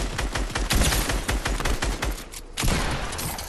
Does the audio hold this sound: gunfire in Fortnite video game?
yes